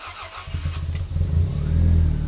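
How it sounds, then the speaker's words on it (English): Toyota GT4 exhaust idling and rumbling up close, a low pulsing drone that thickens and grows slightly louder over a couple of seconds. "All you're going to hear is the exhaust"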